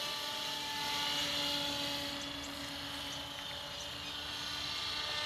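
Radio-controlled Trex 700 model helicopter in Red Bull livery flying over a park, a continuous whining rotor and motor hum at steady loudness, with no voices.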